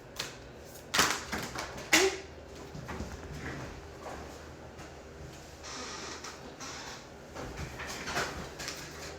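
Quick crisp riffles of a deck of cards being shuffled, two sharp bursts close together early on, then softer rustling and light card handling.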